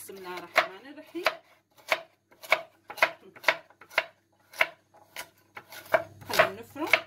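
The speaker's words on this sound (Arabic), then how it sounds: "اول شيء بدي افرم الخضره اللي عندي" Vegetables for lentil soup being chopped with a knife on a board: a dozen or so sharp, close chops in a loose, uneven rhythm with quiet pauses between.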